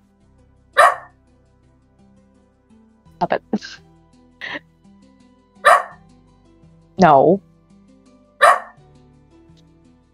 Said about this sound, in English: she doesn't bark that loudly.